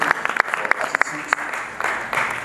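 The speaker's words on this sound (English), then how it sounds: "Give Lord a clap of him." A church congregation claps at a Thanksgiving Sunday sermon, with uneven, scattered claps that build into a denser patch near the end, moderately loud, with some voices in the room.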